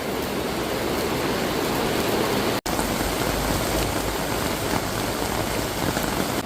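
Steady rain pours at a valley campsite beside a stream, a dense continuous hiss of drops on tent and ground with a brief cut partway through, no voices.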